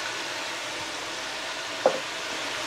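Garam masala, red chili, turmeric, salt and deggi mirch fry in hot oil for aloo baingan, giving a steady close hiss. A single brief clack of a spoon cuts through near the end.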